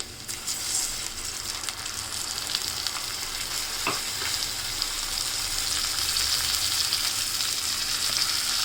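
Onion, garlic and spice paste for a Bangladeshi tilapia and bean-seed curry sizzles loudly and evenly in a pan after a splash of water, a dense close crackle throughout with a brief knock partway and no talking.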